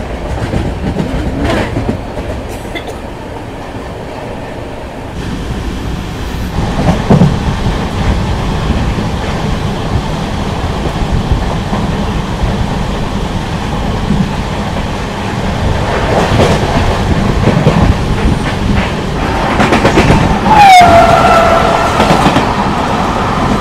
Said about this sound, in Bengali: ট্রেন আমাদের ঢুকে গেল বর্ধমান জাংশন